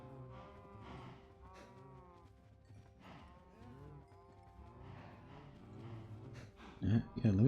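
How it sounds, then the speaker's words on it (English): Minecraft cows moo repeatedly in drawn-out, tonal calls that overlap one another at moderate loudness, with a louder cluster near the end; a voice talks underneath. "Sorry, it's gonna get very loud with cow noises."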